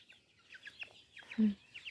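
Chicks or chickens cluck and peep in short high bursts around a backyard at evening, with one lower, louder cluck near the middle; the calls are fairly close but soft.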